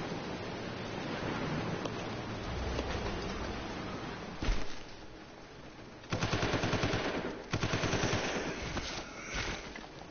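Machine gun fire in Resident Evil 0 HD on PS4 rattles in long rapid bursts, dense and loud, with brief gaps between volleys and a final shorter burst.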